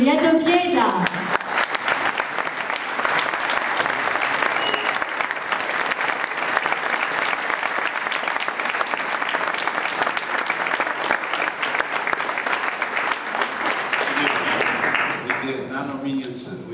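An audience in a Paris hall breaks into loud, sustained applause welcoming a former EU Parliament member, steady clapping filling the room for about fifteen seconds, with brief talk at the very start and end.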